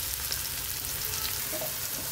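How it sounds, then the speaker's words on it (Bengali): Chopped green chilies and onions hiss and sizzle steadily in hot oil, a close, continuous frying sound while a scribbled goby fish dish is being cooked. "তেলটা গরম হয়ে গেলে আমরা এখানে আগে থেকে কেটে রাখা কুচি কুচি করে কাঁচামরিচ দিয়ে দিচ্ছি এবং এর সাথে পেঁয়াজ কুচিও দিয়ে দিচ্ছি"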